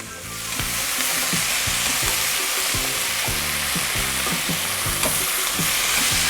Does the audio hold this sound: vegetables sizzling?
yes